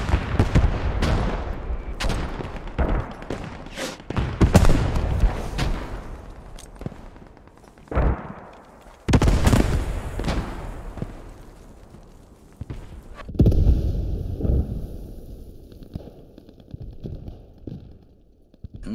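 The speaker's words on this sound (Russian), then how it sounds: "Но это похоже артиллерия, а не пушка" Artillery fire in the World War II shooter game Post Scriptum, a series of heavy booming impacts and gunfire bursts spread irregularly, some close and loud, others fading into distant rumble.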